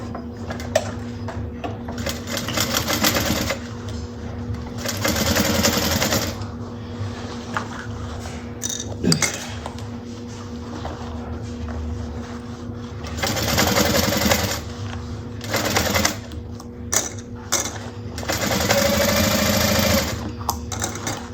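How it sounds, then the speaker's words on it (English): A sewing machine stitches a quarter-inch seam in several loud bursts of rapid mechanical whirring, separated by quieter pauses with a steady low hum. "I'm going to sew at a 1/4 inch"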